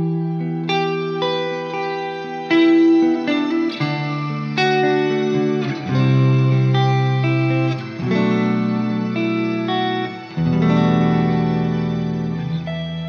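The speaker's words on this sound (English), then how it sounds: "the shimmer reverb, where we add an octave on top that's regenerative" Sustained guitar-like tones drenched in shimmer reverb, a regenerative octave layer ringing above them, chords swelling and changing every couple of seconds into a dense, ethereal wash with no talk.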